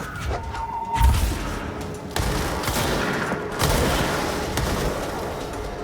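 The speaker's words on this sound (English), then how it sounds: "Ah, explosive rounds." Explosive rounds fire in the video game Control, a few heavy booming blasts with rumbling tails filling the clip, loud and close with no talking.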